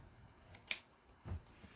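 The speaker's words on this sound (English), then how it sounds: "You can be cheeky like me and just trim" Scissors snip through fabric while trimming material for a Yazzii bag, two short crisp cuts close by against a quiet room background.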